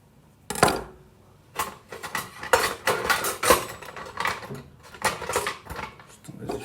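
A knife cuts food on a board during home cooking, making a run of sharp, irregular clicks and taps close up with a few louder strikes, with no talk.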